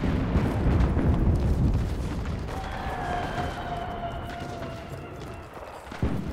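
Artillery strike in the World War II shooter Enlisted: a heavy rumbling blast rolls out at the start and fades into a long low rumble, with a faint whistling tone and a sharper thud near the end.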